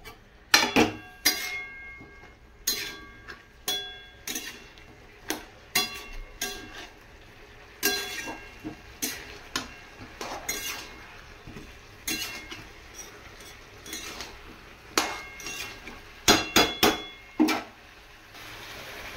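Food being sautéed and stirred in a pan over a high flame in a home kitchen, heard as irregular sharp clinks and scrapes of a utensil against the pan, close and fairly loud, with short pauses between bursts.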